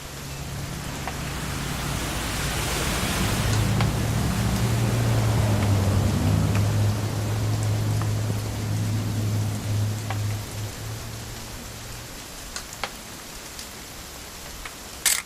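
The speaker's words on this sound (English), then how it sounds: "It's gonna rain the whole weekend," Steady rain pours throughout the hunting-trip scene of the video game What Remains of Edith Finch, a dense, even hiss with a low hum beneath it and a few faint ticks near the end.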